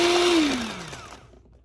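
An electric mixer beats liquid whole egg into clementine raisin cookie dough, its motor whine sliding downward as it slows and cuts off into silence.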